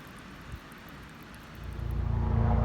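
A Coast Guard helicopter approaches over a rocky headland beach, its low engine and rotor drone rising steadily from a faint rumble to a louder, nearer roar.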